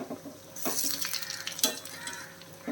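Moringa leaf vadai frying in hot oil while being turned over, with a steady close sizzle broken by scraping and clinks from the flipping utensil.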